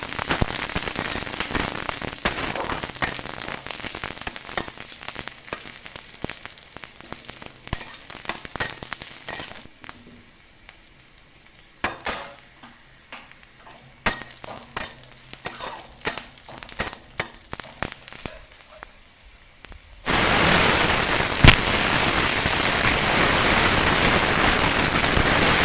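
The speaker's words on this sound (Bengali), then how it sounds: "পেঁয়াজের সঙ্গে বাঁধাকপিটাকে খুব ভালো করে ভেজে নিতে হবে।" Onion and cabbage fry in about two to two and a half spoons of hot oil, a steady close sizzle and crackle that thins to sparse pops midway, then surges back into a loud, dense hiss near the end.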